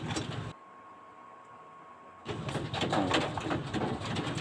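Breeder pigeons cooing softly inside their cage, a faint bird call under background noise with a brief quiet gap, no talk.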